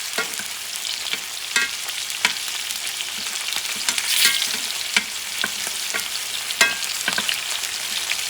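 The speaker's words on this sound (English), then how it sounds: "What I'm doing, I'm caramelizing the garlic." Garlic caramelizing in a pan over heat a couple notches below medium, cooked alongside a T-bone steak, gives a steady close sizzle with scattered stirring scrapes and crackles throughout.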